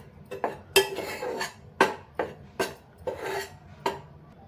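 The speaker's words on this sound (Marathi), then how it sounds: "हे सतत ढवळत राहूनच करावे।" Flour roasting in a pan for fenugreek laddus, stirred with a metal spoon that scrapes and clanks against the pan in repeated rhythmic strokes, close and moderately loud, no voices.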